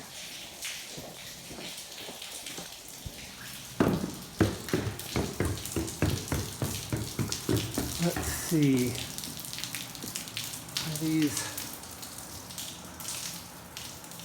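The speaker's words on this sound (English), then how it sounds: "Or is that just water coming from up above?" Water leaking and dripping from pipes in a flooded bunker, a run of sharp splashing drips and trickles that picks up midway, with someone talking briefly over it.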